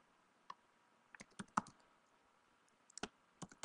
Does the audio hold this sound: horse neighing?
no